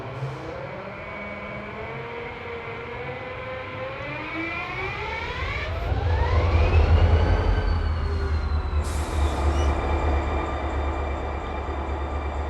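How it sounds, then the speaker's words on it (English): A loud, steady locomotive engine drone in the Run 8 train simulator game, with rumbling low end and rising tonal whine, growing heavier midway, then a bright hiss burst near the end. "This engine's a little loud."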